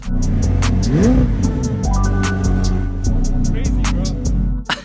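McLaren Senna supercar engine revving while stationary, loud and close, with a throaty climbing rev near the start, then sustained rumbling idle and blips that fade abruptly at the end.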